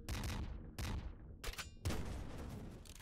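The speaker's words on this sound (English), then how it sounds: "I'm gonna try the fire chain gun." The fire chain gun in the video game Nuclear Throne fires in several rapid, loud bursts with short gaps between them, with no talk over it.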